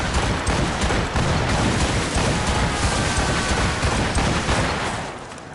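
Naval cannon fire during a ship battle in the video game Assassin's Creed Rogue, a dense, continuous roar of booming shots and rumbling blasts, loud and sustained, fading slightly at the end.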